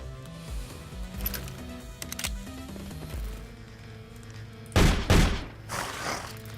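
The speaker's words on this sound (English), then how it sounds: "I love to just use shotguns to blast everything with AoE" Shotgun blasts in the video game The Pit: a pair of loud, booming shots near the end, following quieter thumps and game sounds.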